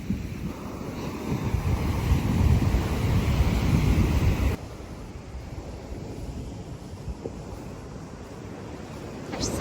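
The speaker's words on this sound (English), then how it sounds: "I'm scared just looking at the waves." Ocean waves roll and break on a beach at San Pancho, Nayarit, Mexico, as a continuous roaring wash of surf with heavy wind buffeting the microphone, softening partway through to a lighter, steadier rumble.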